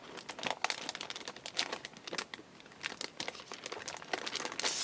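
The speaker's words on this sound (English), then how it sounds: "I'm going to open up my chipboard sticker" Crinkly plastic packaging of a KI Memories chipboard sticker pack is handled and opened, producing close, continuous crackling and crumpling with irregular sharp rustles throughout.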